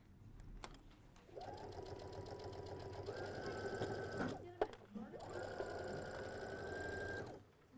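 Sewing machine chain-piecing quilt blocks, a steady mid-pitched motor whir running in two long bursts with a brief pause and clunk between them, close and fairly quiet.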